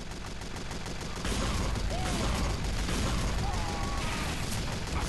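Explosive bursts of rocket launcher fire from the Soldier in Team Fortress 2, repeated rapid blasts and mechanical clatter over dense game noise, with a voice speaking over the action.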